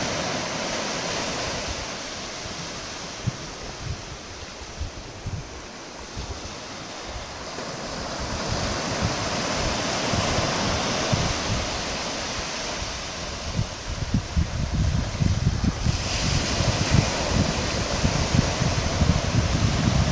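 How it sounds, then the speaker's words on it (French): Ocean surf swells and washes in waves near Étang Saint-Paul, Réunion, mixed with gusty wind buffeting the microphone; no voices. "Il y a un peu de houle là, un peu de vagues"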